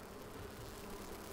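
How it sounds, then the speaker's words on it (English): Bees buzzing in the survival game Enshrouded, a steady, dense insect drone holding at moderate level throughout with no talk over it. "Stupid bees."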